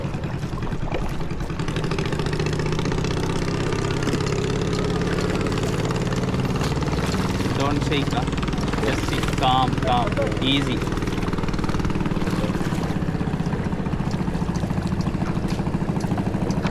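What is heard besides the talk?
motorboat engine running on the water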